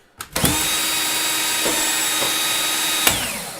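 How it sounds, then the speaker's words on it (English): Corded drill spinning a brass case trimmer, starting with a couple of clicks and then whirring at a steady high pitch, loud and close, with faint knocks partway through. "You can use a corded drill or a cordless drill. I just use a corded drill"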